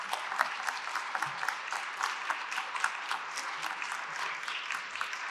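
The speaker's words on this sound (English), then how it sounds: "A round of applause, please, for Senator Linda Higley." An audience at a state governor's address applauds a senator with dense, crisp clapping that stays steady and fairly close throughout.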